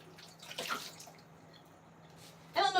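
Cranberries are rinsed under a kitchen tap: quiet splashing comes in uneven bursts, then a louder gush of water near the end.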